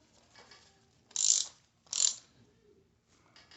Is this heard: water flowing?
no